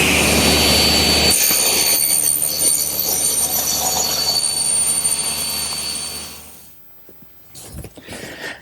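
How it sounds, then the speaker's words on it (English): A homemade panel cutter saw trims about three-quarters of an inch off a wide board, its loud, steady whine running for several seconds before cutting off, followed by a few faint knocks. "you've seen this device plenty of times, my homemade panel cutter, and it's perfect for squaring up wide boards or panels"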